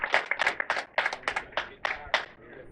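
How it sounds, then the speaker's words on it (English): A small bowling audience at a PBA50 stepladder final claps in a sparse, uneven patter of distinct hand claps, fairly close and soft, tapering off toward the end. "give him a nice round of applause and send him off"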